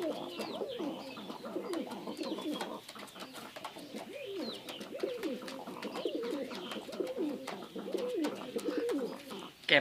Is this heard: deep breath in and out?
no